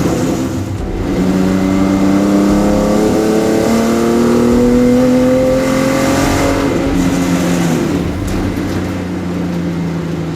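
A car engine drives and accelerates through the gears, rising pitch repeatedly with shifts, loud and close throughout.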